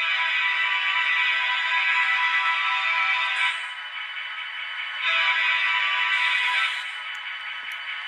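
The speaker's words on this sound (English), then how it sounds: "2 horn." Steady electronic horn blasts from the DCC sound system of an Atlas HO-scale GP40 model diesel locomotive, one long sustained tone that dips briefly and then sounds again, close and fairly loud.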